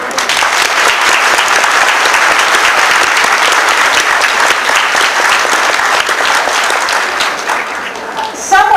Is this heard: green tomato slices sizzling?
no